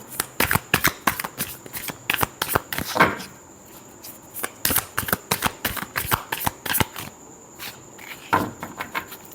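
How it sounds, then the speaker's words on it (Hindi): Playing cards shuffled by hand, quick crisp riffling bursts repeating in a steady rhythm with brief pauses, close up, over a faint constant high whine. "last shuffle"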